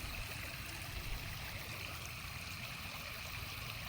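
Floodwater flows steadily through farm fields and orchards, a soft continuous rushing and trickling wash heard at a distance, quiet and even throughout with no voices.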